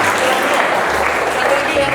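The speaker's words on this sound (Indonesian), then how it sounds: "Baik, tepuk tangan dulu." Classroom applause from students, a broad steady burst of clapping filling the short moment, fairly loud and close with no talk over it.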